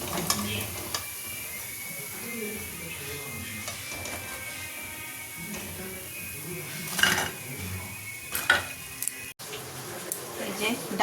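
Lentil fritters (dal bora) frying in a pan, a steady low sizzle with occasional clinks and scrapes of a utensil, while a voice talks at times.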